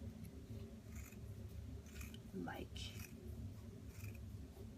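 Quiet snipping of scissors, a few brief cuts heard under soft speech and background hum.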